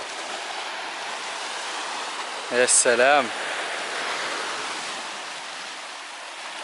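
Continuous surf noise from the sea near an island, heard on a bicycle outing, washing steadily throughout while a man briefly exclaims partway through.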